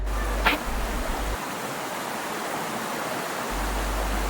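A small waterfall in dense forest sends out a steady, full rush of flowing water, continuous and fairly close, with no voices.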